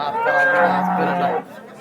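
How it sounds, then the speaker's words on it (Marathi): A single long, loud cow moo at a cattle market, a sustained bellow lasting over a second before cutting off, with faint crowd chatter in the background. "मित्रांनो हे गाय बघू शकता दुसऱ्या हाताची गाय आपल्याला या ठिकाणी पाहायला मिळते"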